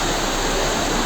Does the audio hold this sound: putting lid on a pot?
no